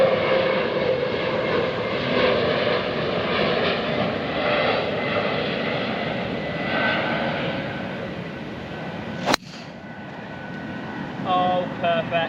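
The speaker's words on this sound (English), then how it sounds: "it's right on the flight path into BHX, and already I've seen half a dozen Boeing" An airplane passes low over a golf course on the approach path into Birmingham airport, a loud, steady engine roar that slowly swells and fades, with a sharp click near the end and faint outdoor ambience.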